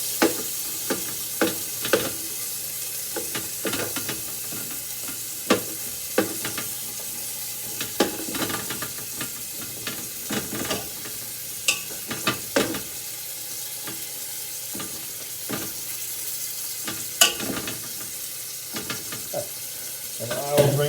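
Ground meat browning in a hot skillet for Bolognese, a steady sizzle and fry with scattered crackles and occasional scraping stirs, close and continuous, no talking.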